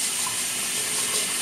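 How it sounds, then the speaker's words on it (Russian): Rice being rinsed under running tap water in a kitchen, a steady, close hiss of flowing water with no break. "Промываю рис под проточной водой раз 7, не меньше."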